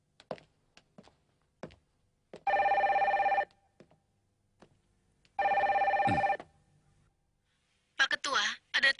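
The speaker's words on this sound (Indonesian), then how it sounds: "Pak Ketua, ada telepon dari pelatih Berneval." Telephone ringing indoors, two separate bursts of a bright electronic ring about three seconds apart, with quiet taps and knocks between them and voices talking near the end.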